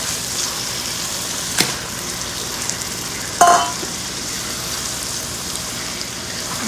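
Shrimp sizzle in hot oil with onion, tomato and spices for a shrimp masala, a steady soft crackling hiss close by, broken by a sharp clatter and a brief louder burst partway through.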